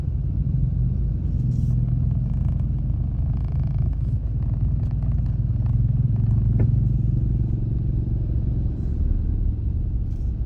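Street traffic of vans and official agency vehicles near the National Assembly hall during mourning for General Khamtay Siphandone forms a steady low rumble of idling and passing engines with faint clatter and no clear voices.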